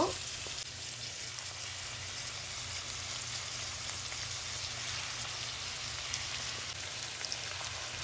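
Chow mein noodles and vegetables fry in sunflower oil, a steady close hiss and crackle that runs evenly throughout with no talk.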